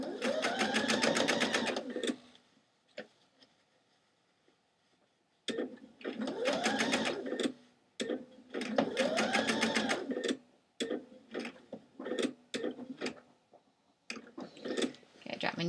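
A sewing machine stitches thrift store jeans in several short bursts separated by pauses and pivots, close and fairly quiet, with rapid mechanical ticking.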